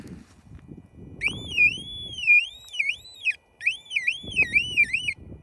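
A mine detector, a Vallon VMC 4 or CEIA CMD, emits warbling electronic tones in two bursts, wavering up and down in pitch, with rustling and scraping underneath.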